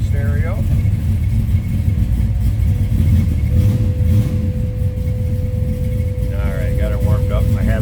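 A warmed-up 1968 Chevrolet Chevelle SS idling with a steady low rumble, a continuous tone running through the middle of the clip and brief faint chirps at the start and end.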